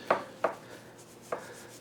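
A knife cuts through a freshly baked, still-warm tarte tropézienne, making three short, crisp strokes, two quick ones and then a later one, quiet and with no other sound.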